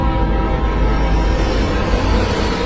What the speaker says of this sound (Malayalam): ഇരുട്ടിനെ കീറി മുറിച്ച് ഹുങ്കാര ശബ്ദത്തോടെ അടുത്ത ട്രാക്കിലൂടെ മറ്റൊരു ട്രെയിനും കടന്നുപോയി.